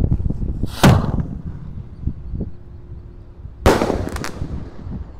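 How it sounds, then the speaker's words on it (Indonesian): A 4-inch Bima Sakti firework set off inside a hole in the ground gives two loud, sharp bursts about three seconds apart, with crackling and low rumble around them, heard outdoors with no talking. "Dan penutupannya di sini ada Bima Sakti ukuran 4 inci guys. Kita nyalakan."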